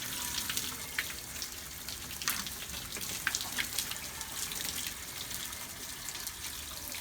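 Water drains from a water heater after its anode rod is removed, a faint, steady trickling hiss with small splashes throughout.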